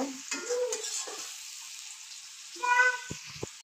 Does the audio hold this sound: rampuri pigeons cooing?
no